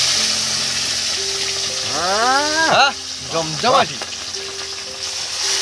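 Pieces of katla fish go into hot oil and sizzle loudly and steadily, with a brief voice over the frying.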